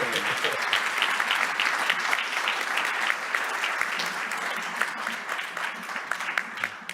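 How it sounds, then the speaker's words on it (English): An audience at a European Commission event on Industry 5.0 applauds its five speakers and moderator, a steady, dense clapping that holds at full strength for several seconds and fades slightly toward the end. "I would like to ask to applaud our 5 speakers."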